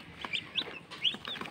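Cobb 500 broiler chicks giving a few high, piercing peeps at irregular intervals, close by, with soft rustling between calls and no voices.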